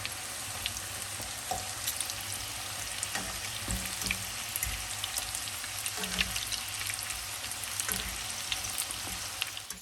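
Tourtons, small cheese-filled French pasties, fry in hot oil with a dense, steady sizzle and crackle, continuous and close with tiny pops throughout and no talking.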